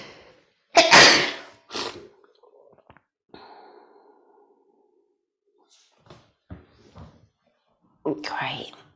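A single sharp sneeze bursts out early, followed by soft breathy sighs and quiet rustling in an otherwise hushed room.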